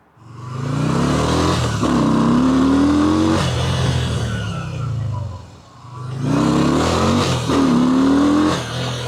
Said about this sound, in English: I'm just gonna try to putt around this part of the parking lot